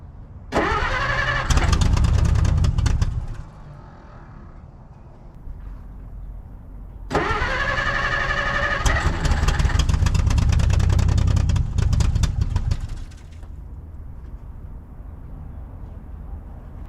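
A 1950 Dodge Meadowbrook engine cranks loudly in two long bursts, each with a few rough firing attempts, and a quieter pause between them.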